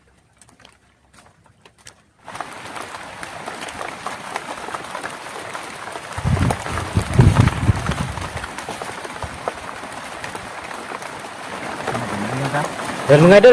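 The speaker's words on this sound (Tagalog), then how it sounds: "lumakas yung ulan." Heavy rain starts suddenly after a near-silent opening and keeps up a dense, steady patter that grows louder toward the end, with someone talking briefly over it.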